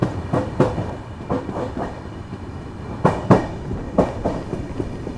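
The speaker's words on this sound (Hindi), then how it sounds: "बाकी चलिए निकल चुके हैं अपनी केरला संपर्क क्रांति कायाकुलम जंक्शन से भी" Kerala Sampark Kranti Express pulling out of Kayamkulam Junction, its wheels giving a steady clickety-clack with sharp rhythmic rail-joint knocks over a continuous rumble, heard close by from on board with no voices.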